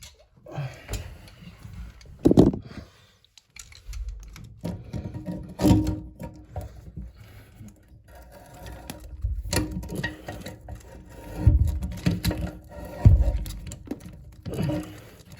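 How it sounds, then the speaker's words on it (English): Channel lock pliers grip and loosen the plastic nut on a toilet fill valve, giving scattered close clicks, scrapes and creaks in uneven bursts with quiet gaps between. "So this is the piece I'm using the channel lock on."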